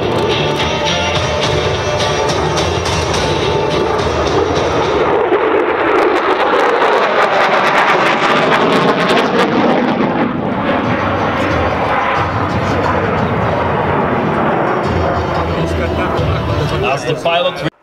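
Polish Air Force F-16 jet making a high-speed pass at an air show display, a loud, continuous roaring rush that swells and fades over many seconds while an announcer talks over it.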